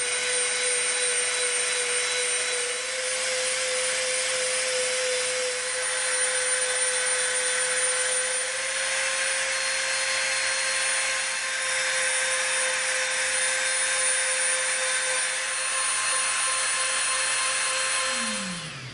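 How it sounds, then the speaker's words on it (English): A Dremel rotary tool bevels the edge of an EVA foam grip, giving a loud, steady high-pitched motor whine with gritty abrasive hiss that holds for the whole stretch with little change. "We're going to come in with our Dremel, and we're going to bevel this edge all the way around this grip."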